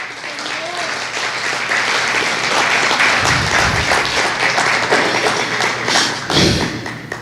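A church congregation applauds during a worship service, a steady dense wash of clapping held for several seconds with occasional heavier thumps, loud and close throughout.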